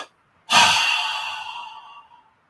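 A mouth exhale in pranayama breathing, a single breathy rush that starts abruptly, swells briefly, then trails off in a long steady release, heard close and alone.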